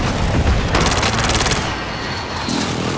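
A grenade blast in Call of Duty Warzone on Rebirth Island, heard as a loud, close boom mixed with rapid gunfire bursts, with continuous dense game noise throughout.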